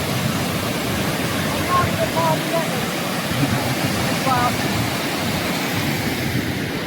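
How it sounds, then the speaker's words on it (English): Powerful water rushes continuously as a broad, steady roar close to the microphone, mixed with wind buffeting, with faint bird chirps over the rushing flow. "we've got more powerful water flow"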